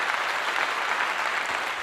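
Continuous crowd clapping, dense and fairly steady, filling the short stretch without speech on top.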